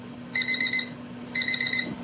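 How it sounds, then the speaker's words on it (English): Electric alarm clock sound from an Alexa smart speaker: two bursts of rapid, high-pitched beeping separated by a short gap, heard over a steady low hum in a room. "Here's an electric alarm clock sound."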